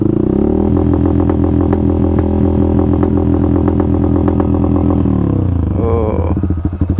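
A motorcycle engine tuned with an Aracer RC Mini X ECU revs hard and close, a loud, steady buzzing roar that holds for several seconds, then changes and fades slightly near the end.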